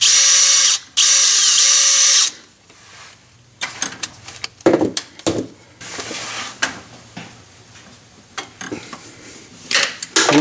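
A power drill whines in two loud bursts while working on a Mercedes 560SL rear main seal, followed by clattering, scraping and knocking of handled tools and hardware.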